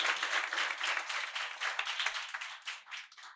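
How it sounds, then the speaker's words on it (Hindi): A church congregation claps together during a Sunday service, a bright, fairly quiet round of many hands with a loose rhythmic pulse that thins toward the end, no voices on top. "आपकी तालियां बता सकती कि आप कितने खुश हैं।"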